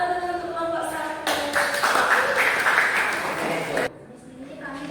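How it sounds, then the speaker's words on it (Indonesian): A classroom applauds a student group with about three seconds of quick, moderately loud clapping that follows and precedes talking. "Oke, tepuk tangan dulu untuk kelompok 1."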